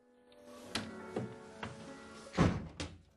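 Indoor thuds of a front door being shut and locked in a quiet house hallway, several knocks spaced out with one heavier bang near the end, fairly close and without talk.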